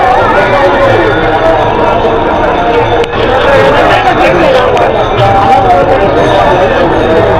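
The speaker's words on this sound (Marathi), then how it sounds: "एवढी खूप गर्दी झाली आपल्या आळंदीमध्ये" A huge crowd of pilgrims packs the Alandi temple grounds on Kartiki Ekadashi, a loud dense hubbub of many voices with scattered sharp knocks and bumps close by.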